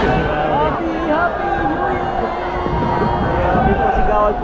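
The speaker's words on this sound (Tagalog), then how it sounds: "Grabe po, sigawan po sila ngayon dito." A New Year's Eve countdown crowd in Central Park, Taichung, Taiwan, shouts and cheers in a dense, loud roar of many voices, with tonal noise and nearby talk mixed in.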